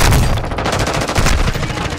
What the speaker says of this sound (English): Oh, careful, they're shooting back.